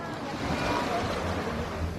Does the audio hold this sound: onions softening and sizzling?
no